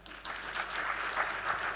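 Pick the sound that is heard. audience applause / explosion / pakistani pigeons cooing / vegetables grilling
audience applause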